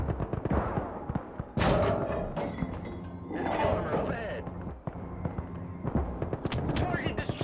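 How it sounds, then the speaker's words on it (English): Sherman tank gunfire in the Gates of Hell war game, heavy booming shots and thuds repeating in irregular bursts amid battlefield noise, mixed under overlapping talk. "Just keep shooting, keep shooting. Yeah, Sherman has so much firepower."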